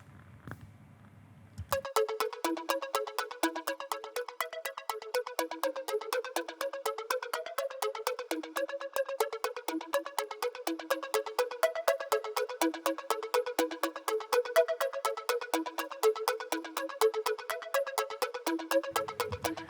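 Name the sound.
chorus effect warping pitch on music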